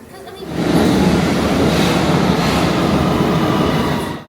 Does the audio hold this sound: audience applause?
no